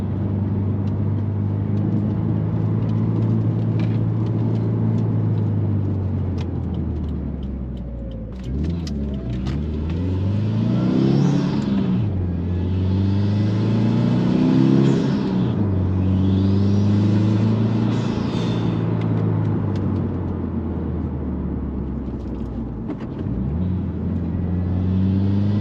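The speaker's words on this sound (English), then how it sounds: "I figure I do a point of view driving video" A Subaru WRX fitted with Torque Solution rear differential inserts drives on the road, its engine droning steadily with rising and falling revs through the gears and road rumble beneath, heard from inside without talk.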